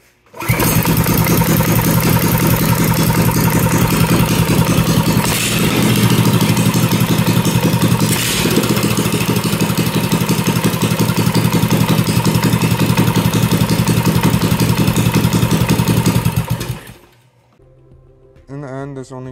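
A PowerFist 213cc small engine with its governor removed runs loud and steady for most of the clip, a dense continuous drone that cuts off abruptly near the end, leaving quieter sound behind.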